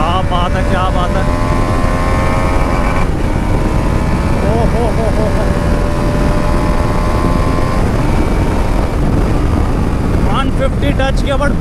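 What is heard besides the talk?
TVS Apache RR310 motorcycle accelerating hard at high speed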